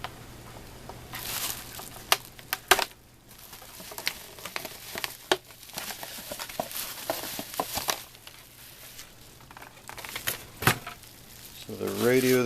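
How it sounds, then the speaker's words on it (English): Plastic packaging is cut open on the box of a WLtoys K999 1/28 4WD RC short course truck, making close crinkling, snipping and rustling sounds in irregular bursts, with faint handling noises in between. "I'm going to have to cut some plastic here"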